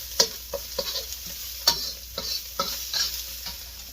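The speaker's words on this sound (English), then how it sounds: "We're going to slot the ginger and the garlic in there first. Start stirring that around." Ginger and garlic stir-fried in a hot wok for keto shrimp fried rice, a steady sizzle broken by sharp rhythmic scrapes and clacks of a utensil against the pan, close up with no talking.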